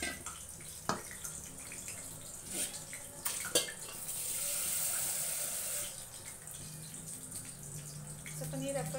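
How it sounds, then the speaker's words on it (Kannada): Water trickling and splashing into a bowl of chakli dough during mixing, a soft steady pour swelling in the middle, with scattered clinks and taps around it in a quiet kitchen. "ಸ್ವಲ್ಪ ನೀರು ಹಾಕ್ಕೊಂಡು ಕಲಿಸ್ಕೊಳ್ಳೋಣ"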